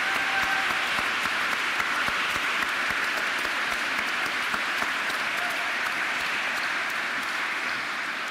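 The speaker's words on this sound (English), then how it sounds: "Let's give him a round of applause." A seated audience at a family-hosted athletic awards ceremony gives sustained applause for an honoree who has just stood, a dense, steady wash of many hands clapping at even loudness throughout with no talk over it.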